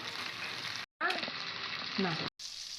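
Onion, tomato and capsicum sautéing in a pan for a double bean potato fry, a steady close sizzle broken by two brief silent gaps, with faint stirring scrapes near the end.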